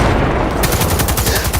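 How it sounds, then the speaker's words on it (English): Gunfire in Cyberpunk 2077, a rapid automatic burst of evenly spaced shots starting partway in and running steadily to the end, loud and close over a dense background din. "Heard shots."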